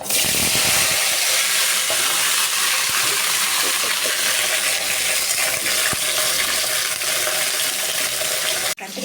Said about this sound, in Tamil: கத்திரிக்காய் உருளைக்கிழங்கு போட்டுட்டு நல்லா வந்து ஃப்ரை பண்ணி எடுத்துக்கலாம்